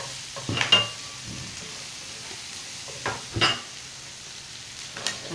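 Carrots tipped into a pan for a chicken casserole and stirred, giving soft sizzling with a few sharp scraping and clattering bursts near the start and middle, then quieter frying.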